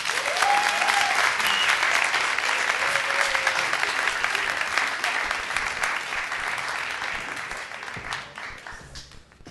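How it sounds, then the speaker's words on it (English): A large audience claps steadily in sustained applause that fades out toward the end. "Give him a round of applause, please."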